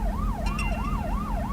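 A police car siren wails in a smooth rising and falling sweep, repeating steadily over rumbling road and engine noise, with a brief bright chirp partway through and no talking.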